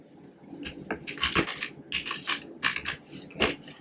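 Spatula scraping the sides of a blender jar holding frozen pineapple mango sorbet mix, a run of close, irregular scrapes and clatters with no talking.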